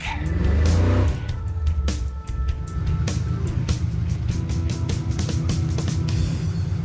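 The Crusher Camaro launching hard on a drag strip during Power Tour West: a loud engine roar bursts out at first, dips briefly, then settles into a sustained, throbbing high-revving drone close by, with no talking.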